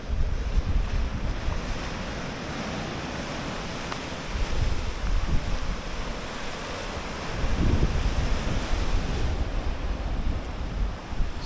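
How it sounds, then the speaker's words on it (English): Waves break continuously along the rugged Baja California coast, a broad steady roar of surf with gusting wind across the microphone and no voices. "these waves seem to be the remnants of all the wind we had for 2 days"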